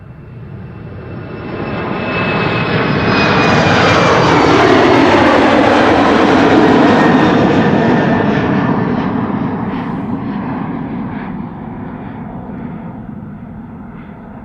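A Transavia Boeing 737-800 jet airliner moves at Schiphol Airport, its engine roar swelling loud and close with a rising whine, peaking mid-pass and then slowly fading, with no voices.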